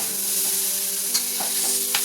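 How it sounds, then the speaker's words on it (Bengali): Beetroot and capsicum being mixed and stir-fried in a pan for vegetarian chow mein give a close, continuous hiss of sizzling oil, with a few brief spatula scrapes and no talking. "এটাকে ভালো করে এটাকে এখানে মিশিয়ে নিচ্ছি।"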